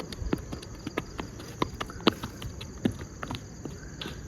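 A horse on a dairy farm at night, hooves striking the ground in irregular clip-clops, moderately close, with crickets trilling steadily in the dark background.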